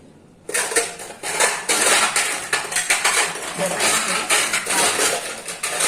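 Semolina and egg batter whisked in a bowl, with a steady run of clattering, scraping strokes of a utensil against the dish that starts abruptly and continues briskly and close throughout.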